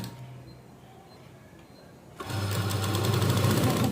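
Sewing machine double-stitching a cross strip onto a blouse starts up after a quiet pause and runs loud and steady, its needle rattling in a fast even rhythm, with no voices.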